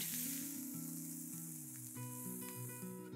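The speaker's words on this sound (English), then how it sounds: "Cook this till the onions turn soft." Chopped onion and finely chopped garlic soften in a hot pan for kadhi, giving a faint, steady sizzle and crackle that runs throughout, with a soft tonal background behind it.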